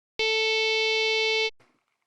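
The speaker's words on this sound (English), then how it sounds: "I get a constant tone." A looped split-millisecond sample makes a steady, bright electronic tone with rich harmonics. It holds for about a second and a quarter, cuts off abruptly, and leaves a brief faint tail. No voices.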